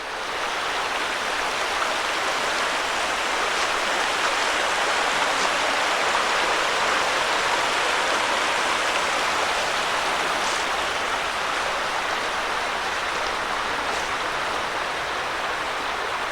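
Creek water flows beneath the arches of an old stone aqueduct near mill ruins, a steady, close rushing and burbling hiss that continues evenly throughout with no talking.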